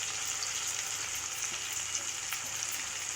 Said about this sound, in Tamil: எண்ணெயில் பச்சை வாசனை போகிற வரைக்கும் நல்லா வறுக்கணும்.